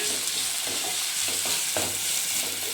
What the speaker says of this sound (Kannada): ಬೀನ್ಸ್ ಹಾಕೋಣ, ಕ್ಯಾರೆಟ್ ಸ್ವಲ್ಪ ಫ್ರೈ ಮಾಡೋಣ ಫಸ್ಟು.